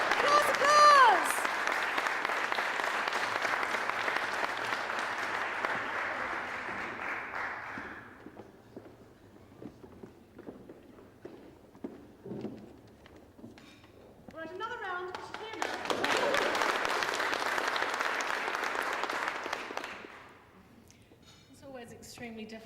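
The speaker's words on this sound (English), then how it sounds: "Applause, applause!" Audience applause at a tertiary teaching excellence awards ceremony in New Zealand, with a long steady burst of clapping for about eight seconds, quieter room noise, then a second loud round of applause.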